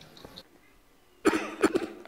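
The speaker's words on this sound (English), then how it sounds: "Oh, we're coughing a lot right now." Video game characters cough in a few sharp, close bursts, set off by a brief pause at the start and a quiet stretch in the middle.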